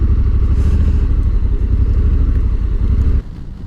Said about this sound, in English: I probably make so much rumble that people are coming out of their houses and want to see what's going on or who is coming.